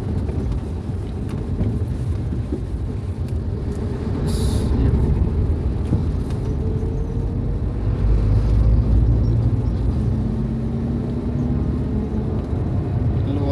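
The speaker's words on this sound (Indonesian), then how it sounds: "Lumayan jauh kita ngiringi bus NPM dari rumah makan Pincuran Gadang tadi sampai di Jalan Raya Betung" An NPM bus travels along the busy Palembang–Betung highway of the Jalan Lintas Timur, a continuous heavy road rumble with tyre and engine noise, swelling louder in the second half, and a brief hiss of air early on.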